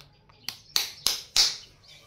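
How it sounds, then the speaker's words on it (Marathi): Four sharp hand claps, close and fairly loud, with uneven gaps between them over a quiet background. "टाळी वाजव टाळी वाजव"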